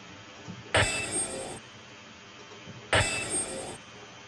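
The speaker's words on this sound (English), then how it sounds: "metal, yeah, metallic sound, and it's got like some reverb and delay" Two separate metallic hits, each ringing out with a bright reverberant tail and echoing repeats before cutting off, separated by a couple of seconds of quiet.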